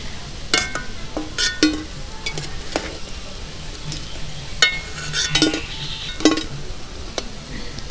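Gulab jamun sweets frying in homemade ghee, a soft background sizzle punctuated by sharp metallic clinks and scrapes of a utensil lifting them out one by one.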